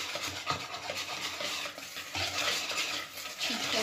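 Flour is sifted through a sieve and stirred in a bowl while making a French far breton, giving a close, steady scraping and rubbing sound with soft rhythmic pulses and no talking.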